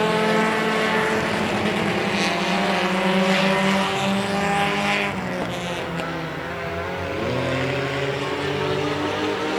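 Race cars roaring around a track during a heat race, a loud continuous engine drone with shifting pitch as cars pass, sustained throughout with a slight dip midway.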